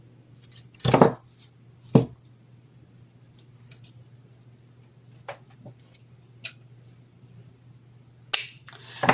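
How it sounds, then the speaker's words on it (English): Scissors snip thin craft wire in a few sharp, separate clicks spaced seconds apart, close and fairly loud against a quiet room. "You can use your scissors."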